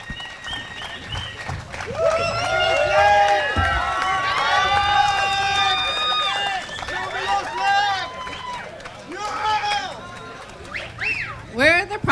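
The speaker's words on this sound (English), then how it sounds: "Give a round of applause." An audience at the Bitcoin Halving Party 2024 in El Salvador welcomes Max Keiser and Stacy Herbert with loud whoops and shouts over clapping, swelling early, easing, then flaring again near the end.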